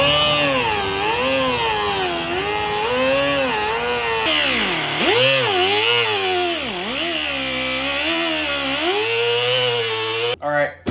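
A power tool cuts slots into the front bumper of a Ford Bronco Sport for a bull bar mount: a loud, continuous whining buzz close by, its pitch sagging and rising as the cut loads and eases, ending abruptly.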